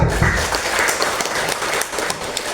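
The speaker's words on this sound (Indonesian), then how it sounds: "Tepuk tangan dong." An audience at a business program seminar in Garut claps their hands, a brief burst of loud, scattered clapping with a few sharper individual claps standing out over a couple of seconds.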